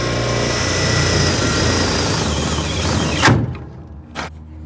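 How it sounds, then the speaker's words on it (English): A power drill whirs steadily at close range for about three seconds, drilling up through an existing hole while a truck headache rack is installed, then stops abruptly, followed by a couple of light knocks. "we can drill up from the bottom through the existing hole"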